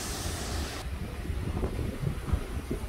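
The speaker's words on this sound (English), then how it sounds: "Still experiencing some wind." Gusty wind outdoors during Hurricane Ian in 2022, a steady roaring rush buffeting the microphone with low rumbling swells, loudest and hissiest at the start and then easing slightly, with no speech.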